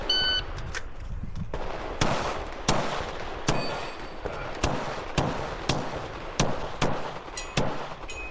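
About a dozen sharp, loud gunshots at a PCSL 2 Gun match at an indoor range, fired in a steady rhythm roughly every half second to second, with a brief beep from the shot timer at the start.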